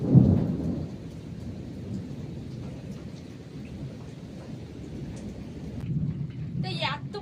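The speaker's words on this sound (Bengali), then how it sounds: "যেমন ঝড় হচ্ছিল ঠিক সেই পরিমাণে কিন্তু মেঘ ডাকছিল" A Kalbaishakhi thunderstorm in the Sundarbans brings steady heavy rain with deep rolling thunder, a louder rumble at the start and again near the end, all close and continuous.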